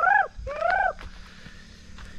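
A peahen near the Narmada Nagar dam and temple gives two loud, close, honking calls in quick succession, followed by fainter scattered sounds in a quiet outdoor setting.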